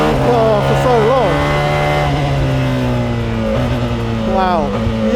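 McLaren Solus GT single-seat hypercar with an 858 bhp Judd V10 engine driving on track, its engine note rising and falling through shifts, a sustained close drone with the driver talking over it.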